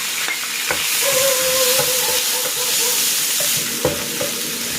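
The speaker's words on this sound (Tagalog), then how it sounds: "Nagigisa na ako dito ng bawang." Garlic sautéing in hot oil in a pan for a garlic chicken with mushroom dish, a continuous close sizzle with scraping stirs and light utensil clinks scattered through it.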